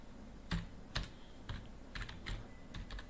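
Several separate clicks of computer keys being typed, irregular and close, with short pauses between bursts and no voices.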